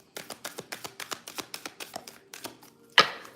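Tarot cards are riffled in a quick series of crisp, rhythmic flicks, ending with a sharper snap as the deck comes together.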